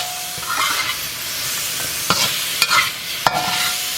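Mongolian beef stir-fries in a wok with a steady close sizzle, broken by several sharp scrapes and clanks as the food is tossed and stirred.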